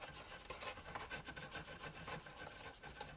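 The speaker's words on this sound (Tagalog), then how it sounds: "Konting liha lang, huwag nyo nandidiinan." A chicken eggshell is lightly sanded with sandpaper while cleaning backyard eggs, giving a faint, steady gritty rubbing with quick repeated strokes, close and alone.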